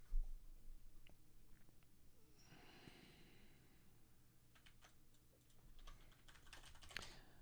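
Fast, irregular typing on a computer keyboard while writing code, soft scattered key clicks at close range against a quiet room hum, with a few sharper taps near the end.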